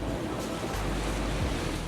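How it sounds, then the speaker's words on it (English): Sea waves wash around a sailing vessel under way with no engine running, steady close surf and water rush mixed with wind buffeting across the microphone. "Don't hear an engine at all, just the waves and the wind going through the water"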